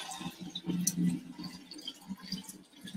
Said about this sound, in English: So I kind of get a couple of drips.